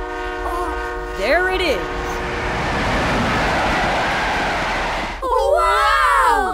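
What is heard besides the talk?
cartoon train passing with horn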